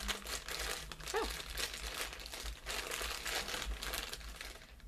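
Plastic bag handled and opened at close range, giving a steady, soft crinkling and rustling that lasts throughout, with no talk.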